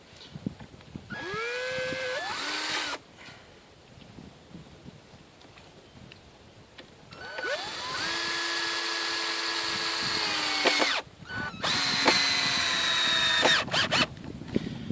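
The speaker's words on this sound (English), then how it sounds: "you want to put 2 screws in, one from either side of the corner, or from either side of the angle" A power drill drives screws into the wooden corner of a herb bed, with two or three close whining bursts that rise in pitch and strain as each screw bites, separated by quiet gaps.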